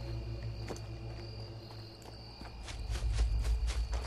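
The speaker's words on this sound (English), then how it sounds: "you can hear crickets and things. They're very pretty sounding." Crickets chirping at night in the video game Fallout 4 Far Harbor, a thin steady high chirp under footsteps and faint ambient rustling, getting louder with heavier steps toward the end.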